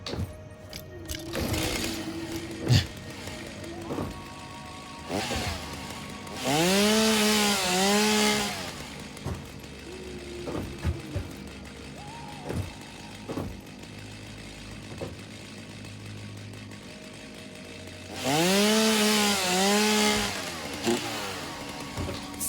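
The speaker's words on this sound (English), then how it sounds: "All right, chainsaw time." Chainsaw in the video game Satisfactory, revving in two loud sustained bursts with rising and falling engine pitch, separated by quieter stretches of scattered clicks and tool sounds.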